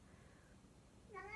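A house cat gives one short, faint meow at the very end, off in the background of a quiet room.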